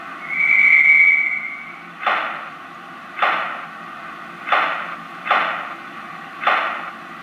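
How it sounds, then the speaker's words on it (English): A model railway DCC sound decoder for a UK steam locomotive plays a single sustained guard's whistle, followed by five separate coach door slams at uneven intervals, clear and close with no talking. "let's go ahead and listen to the guard whistle and then the coach doors slamming"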